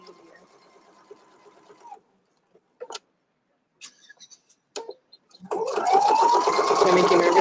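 A Viking or Pfaff sewing machine sews in a zipper, starting up near the end as a loud, steady whirring run. Before that there is talk, then quiet with a few clicks as the fabric is handled.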